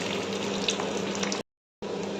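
Fish pieces dropped into already boiling oil for deep frying, giving a steady close hiss and sizzle with crackling spatters, cut off by a short gap before the sizzling resumes.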